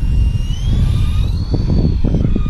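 A small WLtoys V912 Sky Dancer RC helicopter flies nearby, its motor and rotor giving a steady high whine over a rumbling, fluttering low buzz that surges slightly with throttle changes.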